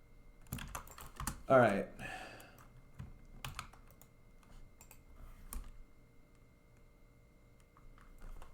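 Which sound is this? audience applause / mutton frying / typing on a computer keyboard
typing on a computer keyboard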